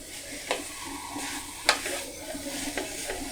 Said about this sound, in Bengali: বাঁধাকপিটাকে আমি অন্যান্য সবজির সাথে এভাবে মিশিয়ে নিলাম।